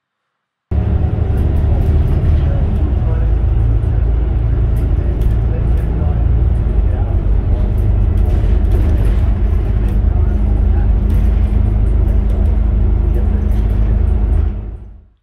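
Dubbo Buslines Volvo B8RLE single-door bus with Bustech VST body, heard from inside while driving: a steady, loud low engine and road drone with rattles, continuous throughout, no talk.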